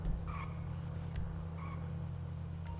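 Damaged car engine in GTA 5 Online, idling roughly after the driver lets off the accelerator: a steady low rumble with a couple of faint higher whines, close and continuous with no talk.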